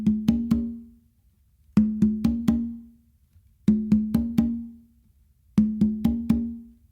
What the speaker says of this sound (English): So what I do is actually I start with 2 opens on the tumba to my dominant side